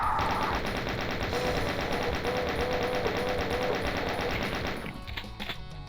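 Rapid continuous gunfire from a video game map, a dense loud automatic burst rattling steadily for nearly five seconds before cutting off into quieter scattered shots.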